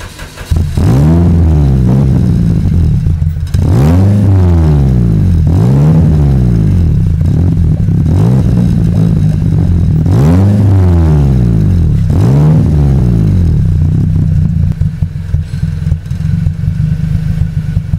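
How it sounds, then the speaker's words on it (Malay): A Lotus Elise Cup 250 engine is revved hard at a service workshop, with about six sharp blips climbing and dropping back to a steady idle, loud and close. "Saya nak belanja korang bunyi enjin"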